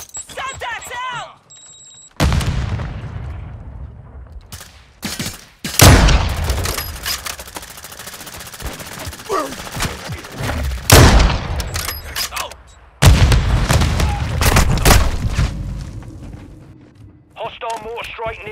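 A mortar strike in Call of Duty: Modern Warfare II: heavy, loud blasts and gunfire crash in with abrupt onsets, broken by short quiet gaps and brief radio-like tones.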